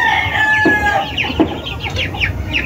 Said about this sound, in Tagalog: papakita ko sa inyo yung mga ibang sisiw